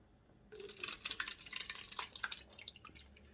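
Liquid whey from soaked cottage cheese trickling through a small strainer into a plate, a soft continuous dribble with faint splashes lasting about two seconds, quiet and close.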